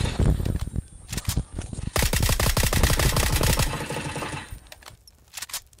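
A machine gun in the battle royale shooter PUBG fires a sustained, rapid burst of loud, close shots, with scattered single shots before and after.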